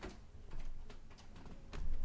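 An office inkjet-style printer running nearby, giving a quiet sequence of mechanical ticks and short clicks with soft whirring between them, no talking.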